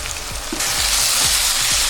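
Turmeric, chili and coriander powder frying in hot oil for a mackerel curry, a loud close continuous sizzle with a few soft stirring scrapes, no talk.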